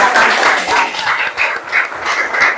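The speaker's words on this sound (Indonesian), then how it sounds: "Kita kasih tepuk tangan dulu untuk semua kelompok ya" Classroom applause for all the student groups after finishing a network topology task, a short burst of many hands clapping steadily, fairly loud and close, with a few voices mixed in.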